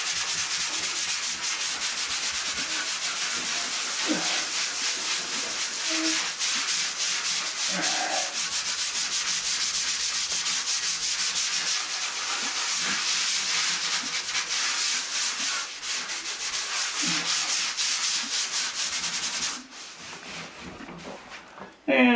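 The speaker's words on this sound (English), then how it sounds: "tomorrow we'll give this a quick little sand. So we have a little sandpaper here" A drywall patch being sanded by hand with sandpaper, a steady close scratching rasp of back-and-forth strokes that continues for about twenty seconds before easing off.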